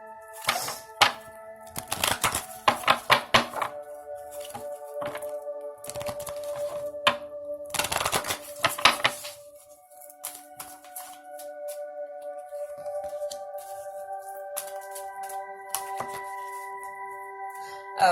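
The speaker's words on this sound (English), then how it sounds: "I'm going to pull a few oracle cards for you guys." Oracle cards shuffled and pulled during a tarot reading: two bursts of quick, crisp riffling clicks, then softer card slaps and taps. Steady background music plays throughout, and no one speaks.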